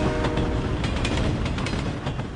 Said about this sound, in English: Just listen to the noise from that engine.